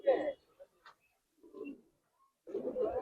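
Pigeons coo at a live loft of Giribaz silver pigeons, with soft low cooing in short bursts and pauses between them, while someone talks nearby.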